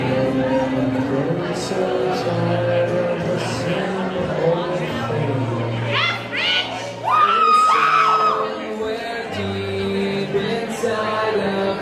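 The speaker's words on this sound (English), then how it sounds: "And I grow so weary of the sound of screams." Shrill, high screams rise over a dense, orchestral-style backdrop with low sustained tones, loudest in a burst midway through.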